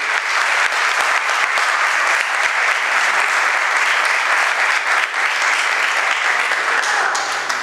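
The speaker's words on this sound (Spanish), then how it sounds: "Le damos un aplauso al profesor." Loud, sustained applause from a class audience for a professor at the end of a recorded lecture, dense and continuous for several seconds with a few sharper individual claps near the start.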